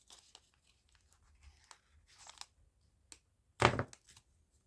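Jammed paper crinkles and tears as it is pulled from a craft machine: soft scattered rustles and crinkles, then one louder, sharp ripping tear near the end, all close and fairly quiet.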